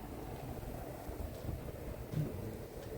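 Strong gusts of wind roar steadily through a heavy snowstorm on a Montreal balcony, a dense, continuous rushing wash with slight swells and no voices.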